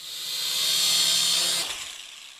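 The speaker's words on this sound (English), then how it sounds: "That's the sound of a drone delivering an Amazon package right to someone's door." A delivery drone carrying an Amazon package buzzes steadily with a loud, bright whine that swells and then cuts off abruptly near the end, with no talking over it.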